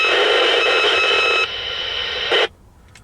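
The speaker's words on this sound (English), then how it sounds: "There's quite a bit of noise on the band today." Hissing band noise on a Midland 77-099 CB radio, a loud steady static wash that drops in level partway, swells briefly, then cuts off to near silence.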